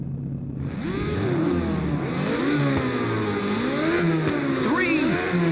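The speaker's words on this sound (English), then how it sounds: "I always love to rev up my engine right before the race starts" A race car engine revving before the start in Ridge Racer on PSP: deep, loud, sweeping revs that climb and fall repeatedly, with a voice talking over them.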